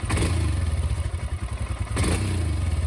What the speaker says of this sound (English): here's where we get to start the bike up and enjoy the rewards to our efforts